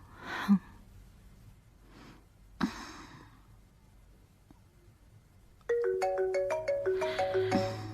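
After a few breathy gasps and a sharp knock, a phone ringtone starts and plays a bright repeating melody to the end.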